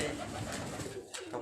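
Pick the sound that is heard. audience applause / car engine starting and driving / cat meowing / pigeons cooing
pigeons cooing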